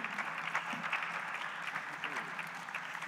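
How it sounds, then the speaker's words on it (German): An audience at a German panel on high-seas fishing and ocean protection gives steady, moderately loud applause to welcome a GEOMAR Kiel fisheries biologist, a dense wash of clapping with no pauses. "begrüßen Sie jetzt mit dem kräftigen Applaus Rainer Fröse vom Geomar Forschungszentrum in Kiel"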